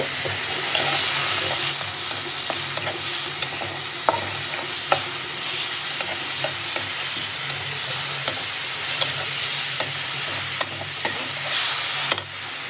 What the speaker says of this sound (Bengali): চিংড়ি মাছটা খুব সুন্দর করে ভাজা ভাজা হয়ে গেছে